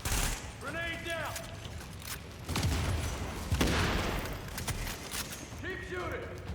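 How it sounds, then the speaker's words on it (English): Video game firefight with turret gunfire and a grenade blast, heard as dense, distant-sounding popping under continuous overlapping talk, with a couple of heavier thumps mid-clip. "I'm deploying the turret! Grenade down!"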